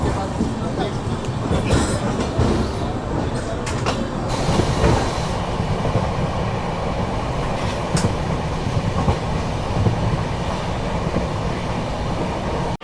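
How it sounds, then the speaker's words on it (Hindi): Tamil Nadu Sampark Kranti Express pulling out of Nagpur Junction, heard as a steady, loud rumble of rolling coaches with faint clatter and occasional squeals, continuous throughout with no clear talk. "चलो अब यहाँ से ट्रेन निकल रही है"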